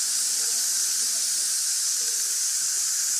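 Steam venting from a Fagor stainless steel 3-in-1 6-quart multi cooker, a loud, steady hiss held without a break for the whole stretch.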